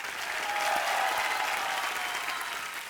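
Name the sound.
audience applause welcoming Asha Parekh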